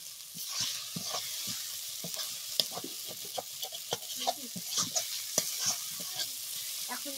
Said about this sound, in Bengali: তারপরে এর মধ্যে চিকেন দিতে হবে।